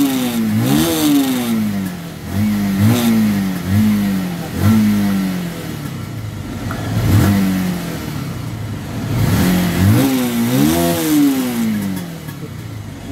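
A Rouser 180 motorcycle engine runs after a push start and is revved repeatedly in loud, close bursts. The revs rise and fall in pitch over a running idle.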